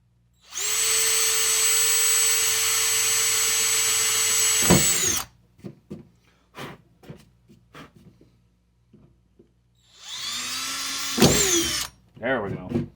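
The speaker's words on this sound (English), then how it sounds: "Easy to drill through that." A power drill bores through plastic, whining steadily for several seconds, stops, then after some quiet rustling and small knocks starts again briefly, fairly close.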